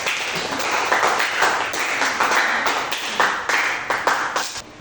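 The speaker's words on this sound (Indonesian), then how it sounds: "Tepuk tangan untuk Mas Tirta." A small group of students claps for a classmate named Tirta in a classroom lesson, with steady, somewhat uneven bursts of applause across the whole stretch and no talk.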